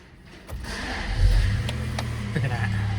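A 1989 Rover 827Si fires up from cold: a brief starter crank, then the engine catches and settles into a steady idle, with someone talking briefly over it.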